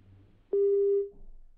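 Telephone line tone after a caller hangs up, a single steady electronic beep lasting about half a second, clear and loud over faint background hiss.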